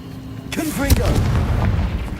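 Confringo blasting spell in Hogwarts Legacy goes off as a sudden booming burst with a sharp crack in the middle, followed by a rumbling tail and short tonal flickers.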